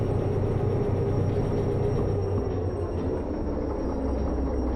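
Train wagons rolling along rails while shunting cargo in the Derail Valley train simulator, a steady close low rumble and rolling drone that holds the whole time with no talk.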